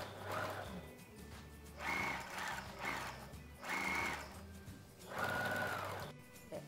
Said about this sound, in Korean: 바늘땀을 6번에 두고 일단 한번 쭉 둘레를 박아주세요